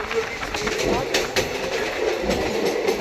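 Railway noise beside a standing train in India, with steady rumble and rhythmic wheel clatter from a passing train on the tracks, loud and close throughout, with a voice speaking briefly.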